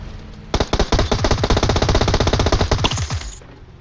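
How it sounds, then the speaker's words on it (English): Automatic gunfire in PUBG Mobile: a loud, rapid burst of closely spaced shots lasting nearly three seconds, close and dominant, stopping abruptly. "Shooting at me."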